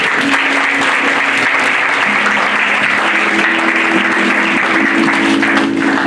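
A church congregation applauds steadily and loudly throughout, a dense sustained wash of clapping with no pauses.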